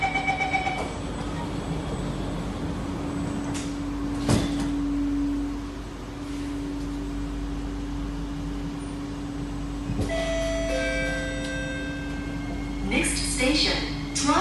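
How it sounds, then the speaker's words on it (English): SMRT C151B train on Singapore's East West Line closing its doors at Joo Koon, with a steady chime tone and a door slide under constant cabin and motor hum, followed by a burst of warning beeps near the end. "Doors are closing."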